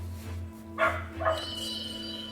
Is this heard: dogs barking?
yes